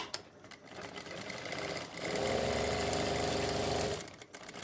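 Sewing machine stitching a pocket on palazzo pants, a soft start then a rapid steady run of stitches lasting about two seconds before slowing to a stop, fairly quiet and close.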